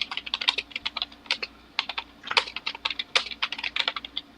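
Rapid, loud clattering on a computer keyboard, a dense run of sharp key clicks in quick bursts with brief pauses, close to the mic and free of speech.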